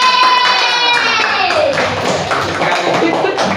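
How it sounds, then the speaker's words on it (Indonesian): Hand clapping from a classroom group in a teacher-training session, with a cluster of claps near the start under tonal voices, then a few fainter scattered claps mixed with talk. "Tepuk tangan yang meriah."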